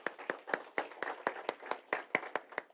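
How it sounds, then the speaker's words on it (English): Clapping at a developer group meetup, a small audience whose claps land in a fairly regular rhythm, about four per second, close and distinct, with no other sound between them. "Give them a big round of applause."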